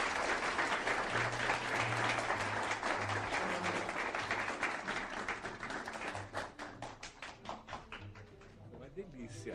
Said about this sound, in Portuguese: nós pediríamos um aplauso de agradecimento muito sentido